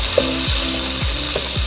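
Vegetables with cabbage and tomato frying in a home-cooking pan, a spoon scraping and stirring in a few repeated strokes over a steady background sizzle, close and fairly loud with no talking.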